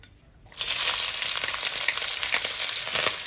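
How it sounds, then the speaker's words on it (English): About 200 grams of leek hits medium-hot oil in a pan and bursts into a loud, steady sizzle after a brief quiet start, with crackles continuing to the end. "Turn the heat down to medium and we'll fry our leek."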